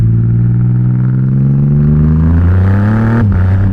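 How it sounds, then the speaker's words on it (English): A Triumph Rocket 3 motorcycle with straight-piped exhaust accelerates up close, its deep, loud engine note climbing steadily in pitch, then a brief gear change drops it before it pulls again, with no one speaking. "I was a little bit worried that this exhaust would be too loud for the road trip."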